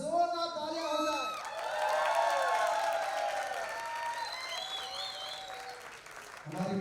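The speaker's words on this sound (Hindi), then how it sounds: "एक बार जोरदार तालियां हो जाए।" Studio audience at a Sa Re Ga Ma Pa singing reality show breaks into loud applause with cheering and whoops, a crowd roar running several seconds with music tones layered underneath.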